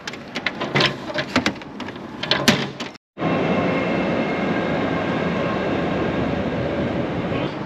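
Clattering, rattling train noise in Tokyo, then a brief dropout before a steady, loud rumble of a train in motion carries on without voices.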